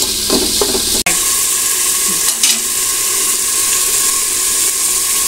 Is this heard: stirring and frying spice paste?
yes